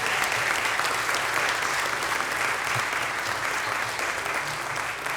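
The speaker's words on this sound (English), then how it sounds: "Let's give them a hand of applause." Steady applause from an audience at a city council meeting honoring high school students, dense continuous clapping filling the room at even loudness throughout, with no talk over it.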